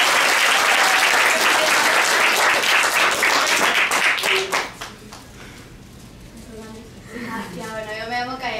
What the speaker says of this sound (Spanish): Un aplauso para vos que te viniste acá.